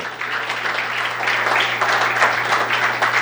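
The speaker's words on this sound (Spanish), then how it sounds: "Dale un aplauso a Cristo" Steady, dense applause from a church congregation clapping for Christ, filling the space evenly and continuously without a break.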